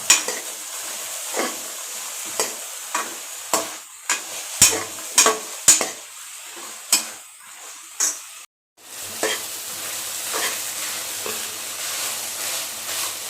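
Tomatoes go into a frying pan for a sprouted horse gram curry and get stirred, bringing a series of sharp utensil scrapes and clinks against the pan over a continuous sizzle, then a brief pause before the frying hiss resumes.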